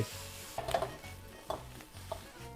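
Wai Wai noodles seasoned with white pepper are stir-fried in a pan, a steady background sizzle broken by three or four brief scraping clinks of a utensil against the metal, close and moderately loud with no voices.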